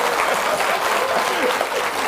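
Applause from a small gathering, a brief burst of steady clapping heard up close with no other sounds over it.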